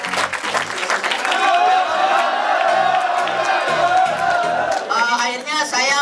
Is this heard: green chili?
no